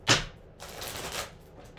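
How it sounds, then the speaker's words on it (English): A deck of cards is being shuffled for a reading: one sharp riffle burst, then a longer run of fluttering, ruffling card sounds that tapers off, close up and fairly quiet, with no voices. "Let's do one more shuffle."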